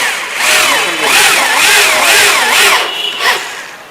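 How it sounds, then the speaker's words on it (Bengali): A power screwdriver drives screws into furniture under construction in a workshop, giving a loud, close whining motor that rises and falls in several sustained bursts, no talk. "স্ক্রু মারতে হয় মেশিন দিয়ে"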